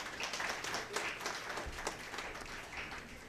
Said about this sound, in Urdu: ایسے ہی لوگوں میں ان کے لیے ایک مرتبہ تالیاں بجا دیجیے صاحب